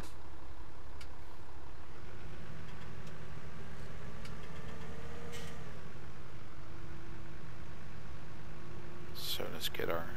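Tractor engine idling in Farming Simulator 17, a steady low drone that runs unbroken throughout with a slight pitch shift midway and a short clatter near the end.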